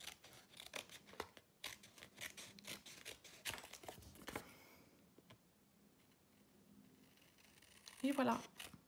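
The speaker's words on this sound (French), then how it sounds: "Et là, au ciseau, eh bien, je viens couper autour du comment ça s'appelle, du rabat de l'enveloppe." Scissors snip steadily around the flap of an envelope for a handmade card, making close, sharp, quiet cuts with a paper rustle at the end as a voice talks through it.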